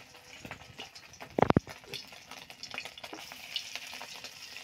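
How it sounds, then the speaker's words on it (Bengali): Eggs frying in hot oil in a wok, a steady soft sizzle with a brief loud crackling burst partway through, heard alone without talk. "নুন হলুদ মেখে ভেজে নিব।"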